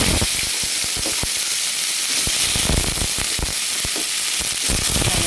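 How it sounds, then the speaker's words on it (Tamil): Potato and onion sauté in hot oil in a kadai for masala paniyaram, giving a loud, steady sizzle and crackle broken by sharp pops and spatters throughout, with no talking. "கடாய் வச்சு ஆயில் விட்டுட்டேங்க இப்போ இதை வதக்கிட்டேன்"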